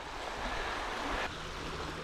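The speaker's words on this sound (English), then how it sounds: "You can see the waves are grabbing the line and making the rod tips bounce all around" Choppy waves lapping on the shore of Waranga Basin, a lake, with a continuous rushing wash and gusty wind noise on the microphone.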